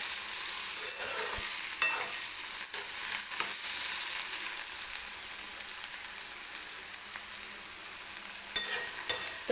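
Onion and tomato masala for a cluster bean dish sizzles steadily in a hot pan while a spoon stirs and scrapes through it, a close, continuous frying hiss with soft stirring knocks.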